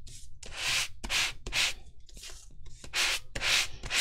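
Sanding block rubbed along white core cardstock paper edges to distress them, a series of about eight short raspy strokes in an uneven rhythm, close and fairly loud with no talking.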